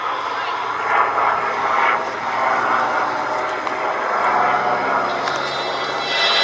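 A Fieseler Storch, a light high-wing plane with fixed leading-edge slats, drones steadily overhead at a VE Day air show at Duxford, its engine a continuous mid-distance roar under a commentator's voice.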